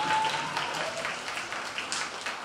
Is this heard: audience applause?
yes